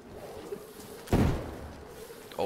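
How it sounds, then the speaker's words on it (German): A flashbang grenade bursts in the video game DayZ, a single sharp, heavy thump followed by a short decaying rumble, fairly close, with another smaller knock at the end. "Das war eine Blendgranate."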